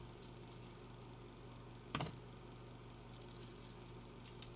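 Half dollar coins being sorted give one faint, bright metallic clink in a quiet room, with a softer tick of coin contact near the end.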